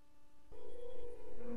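A steady electronic telephone tone from a call that fails to connect drones on after a brief click, with a higher beep joining near the end; no voices.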